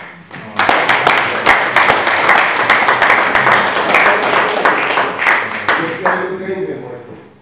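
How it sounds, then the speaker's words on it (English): A room of people breaks into loud, brisk applause that holds steady for several seconds, then fades out with a few last claps. "We all applaud you for that."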